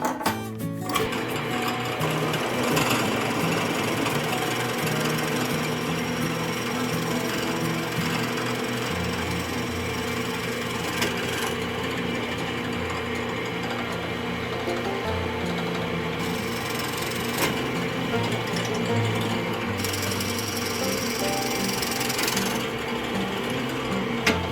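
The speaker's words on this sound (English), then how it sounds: "I'm gonna see you over at the drill press, and we're gonna drill these holes." A drill press bores dowel holes straight through a wooden board for a surf-fishing rig tying board, a continuous loud mechanical whir and grind holding steady throughout.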